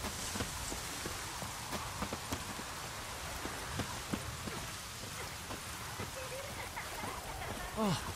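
Rainfall in The Witcher 3 game world, a constant gentle patter and hiss with occasional distinct drops; a voice briefly surfaces near the end.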